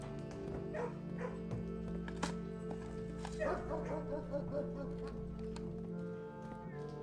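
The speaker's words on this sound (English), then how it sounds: "Puppy." A puppy barks in the video game Blue Prince, several soft yips and whimpering barks over a steady, faint musical hum, with a voice speaking briefly.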